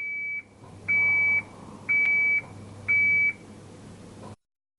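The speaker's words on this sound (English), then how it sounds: "Add rice to the hopper when the buzzer beeps and operations temporarily stop." A sushi nigiri rice ball robot, model ASM340/410, sounds its buzzer in four even, shrill beeps about a second apart over a low machine hum, which then stops.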